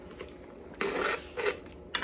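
A spoon scrapes and swishes through a pot of thick fish stew, ginger-style soup, in a few short bursts of metallic stirring with quiet gaps between.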